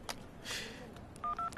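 A few short telephone dialing tones from a phone call being placed, beeping near the end after a brief rustle, fairly close and clear with no talk.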